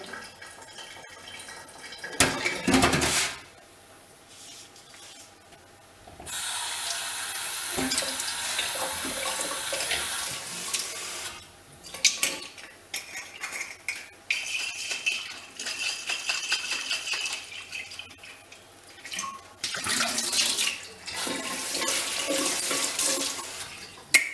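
A milk bottle is washed with a loofah under a running tap, with bursts of splashing water into a sink, scrubbing and light clinks of the bottle, close and fairly quiet.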